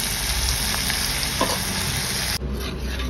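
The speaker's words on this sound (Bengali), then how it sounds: "একটু পেঁয়াজ ভাজছি, আমি বেরেস্তা" Sliced onions frying in oil with a pinch of sugar for birista, a dense, steady sizzle up close that shifts briefly near the end, with no one talking.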